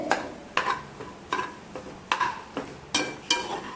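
A utensil stirs loose rice into vegetable fried rice in a pan, a series of light scraping and clinking strokes in an irregular rhythm, close and fairly quiet, with a faint sizzle beneath.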